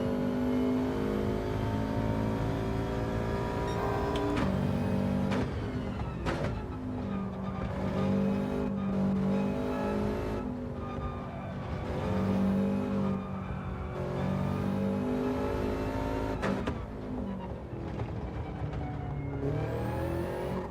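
Gran Turismo 7 race car engine held at full throttle, a loud droning whine rising through upshifts with brief dips at each gear change, sustained and close, no voices.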